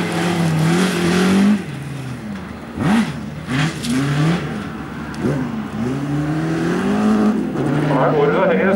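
A yellow BMW E46 rally car races through a chicane at a rally sprint, its engine revving hard, easing off and climbing again with gear changes. A commentator talks over the engine throughout.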